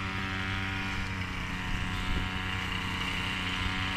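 A grass cutter runs steadily in the background as a continuous, even motor drone with little change, somewhat distant and outdoors, with no talking.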